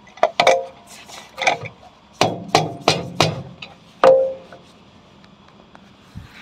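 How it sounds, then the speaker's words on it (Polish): A small hammer taps a metal pipe elbow fitting about ten times in an irregular rhythm, each strike sharp and briefly ringing, loud and close, with no voices. "jak akurat kolano dość mocno dociągamy, ale tak młoteczkiem tylko doklepujemy"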